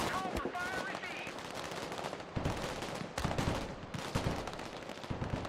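Marines trade fire in the Broken Arrow strategy game, dense bursts of machine-gun fire and rifle shots crackling continuously with heavier booms mixed in, a voice briefly audible underneath.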